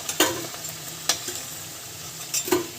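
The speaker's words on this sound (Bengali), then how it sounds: "দেখুন আলুগুলোও ভেজে নিচ্ছে মা" Parboiled potatoes frying in oil: a low steady sizzle broken by three sharp utensil clinks against the pan, close by, with no voices.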